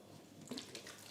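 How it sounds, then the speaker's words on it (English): Water from a bottle splashes onto a floor in a faint, brief trickle and patter, quiet and close with no talk. "spilling all the water on the floor."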